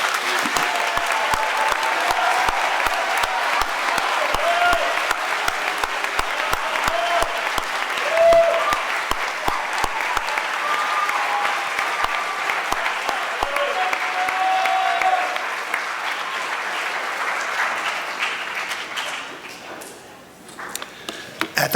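A crowd applauds a team rising at a school awards ceremony, dense sustained clapping for about twenty seconds that thins and fades toward the end.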